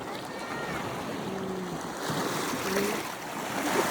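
Wind-driven waves lap and splash on a lake near Mount Fuji at a Yamanashi campsite, a continuous rushing wash of water with gusty wind noise on the microphone and faint distant voices.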